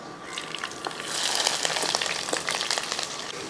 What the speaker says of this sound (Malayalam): ഇനി നമുക്ക് ഇതിനകത്ത് ഇഞ്ചി വെളുത്തുള്ളി പച്ചമുളകും ഒക്കെ അങ്ങോട്ട് ഇട്ട് കൊടുക്കാം